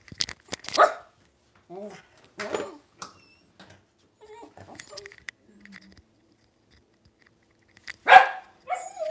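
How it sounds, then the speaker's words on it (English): A dog named Murphy barks indoors at a neighbor, a few short sharp barks scattered between stretches of a person talking nearby, with a louder burst near the end. "there's Murphy barking at the neighbor"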